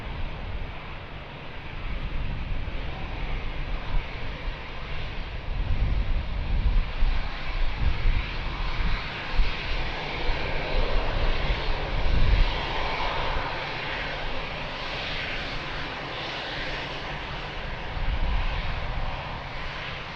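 A fixed-wing airplane takes off on runway 02 at windy Lisbon Airport, its engines roaring loud and continuous with a slowly swelling rumble, and wind buffeting the microphone.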